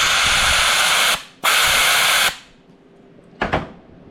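Compressed shop air hisses loudly through a leaking clutch piston seal on a John Deere 4050 tractor with C1/C2 clutch failure, in two steady blasts separated by a short gap, then a brief weaker puff after a quiet pause.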